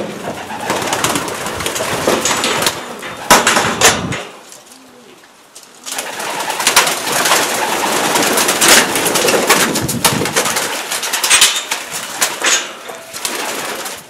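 Racing pigeons fill the air with continuous, busy calling and soft cooing, a dense flock close by, with a brief lull partway through.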